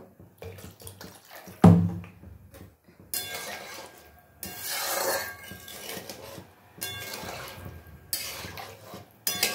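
Water is poured into a pot of fish and potato curry in a home kitchen: a sharp metallic clank, then several bursts of pouring and splashing with pauses and soft utensil clinks between, fairly close.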